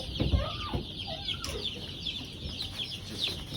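A flock of two-day-old Cornish Cross broiler chicks clucks and peeps continuously nearby, with a louder cluck or two near the start.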